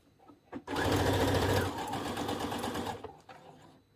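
A sewing machine stitching a dress seam with a back-tack, a close, steady rapid whir that rises sharply after a couple of clicks, dips slightly midway and stops with a few faint taps.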